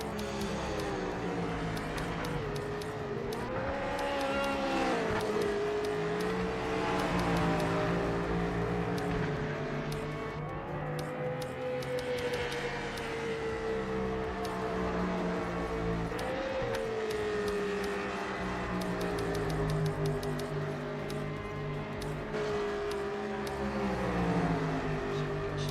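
A Corvette race car in a racing video game drones steadily, its engine note rising and falling through gear changes and corners, continuous and moderately loud with no voices.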